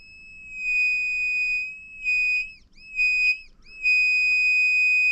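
An Arduino Uno circuit sounds a piercing high-pitched electronic alarm tone, steady and shrill, broken by two short dips where the pitch wavers before it resumes, with no talking.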